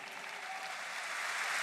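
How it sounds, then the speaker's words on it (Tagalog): A congregation at a worship service breaks into steady, continuous applause, a dense wash of clapping that holds evenly and grows slightly louder toward the end. "Yan ang palakpak na walang sakit."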